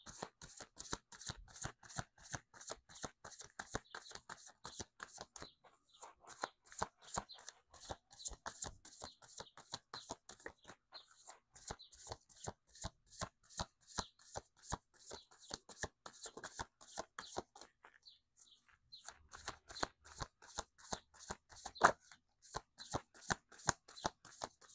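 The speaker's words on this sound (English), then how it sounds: "bottom of the deck, when we stop shuffling" A tarot card deck being shuffled by hand, a long run of rapid, crisp riffling card flicks in steady bursts with brief pauses between, close and alone without talk.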